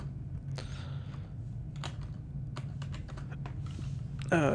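A computer keyboard clicks in a handful of separate, quiet keystrokes over a low steady hum while a command is entered in a text adventure game, and a sharper burst of sound arrives at the very end.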